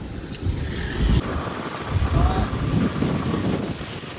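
Strong gusts from Cyclone Montha in Kakinada, India, buffet the microphone in heavy, uneven rumbles, rising and falling across the clip.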